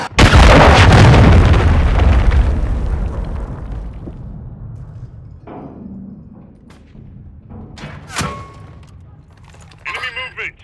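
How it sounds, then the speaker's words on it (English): Cruise missile strike in Call of Duty: Modern Warfare III, a huge close explosion with a long rumbling roar that slowly fades over several seconds, followed by scattered distant pops and clicks. "Friendly cruise missile approaching target."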